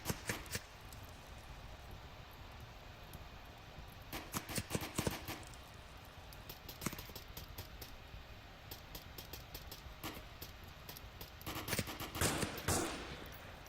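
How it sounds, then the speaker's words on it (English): Gunfire in the VR shooter Onward during a competitive scrim match, with scattered single shots and short bursts throughout, clustering into louder rapid volleys near the middle and again toward the end. "Shots fired, not managing to get that kill."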